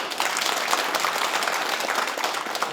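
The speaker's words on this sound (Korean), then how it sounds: "박수 좀 부탁드리겠습니다." Audience at a regional forum on airport logistics in Gyeongbuk applauding steadily, a dense, even clapping that holds for the whole stretch with no talk over it.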